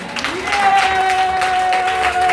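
Church congregation applauding and cheering, a loud continuous wash of crowd clapping with a sustained tonal note from instruments or voices running underneath.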